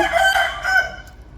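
Roosters crow from a distance, one call running into another in a long drawn-out cry that fades away, with no talk over it.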